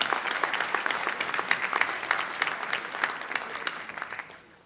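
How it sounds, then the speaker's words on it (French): An audience at the opening night of the Vues d'Afrique international film festival breaks into warm, sustained applause, dense clapping that holds steady before fading out near the end. "j'aimerais qu'on les applaudisse chaleureusement."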